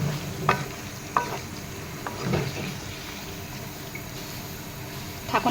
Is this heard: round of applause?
no